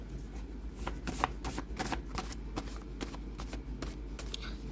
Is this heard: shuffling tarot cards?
yes